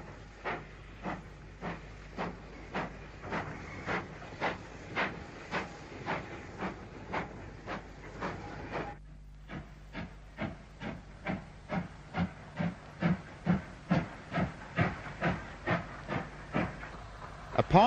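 A 4F 0-6-0 steam locomotive, No. 44395, sets its train back into junction sidings with evenly spaced exhaust beats under a steady hiss. The beats pause briefly near the middle, then return, growing louder and slightly quicker.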